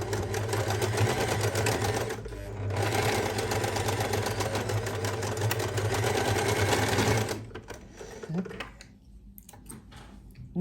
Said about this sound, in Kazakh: Енді машинкамен ең біріншіден осы жерді тігіп аламыз.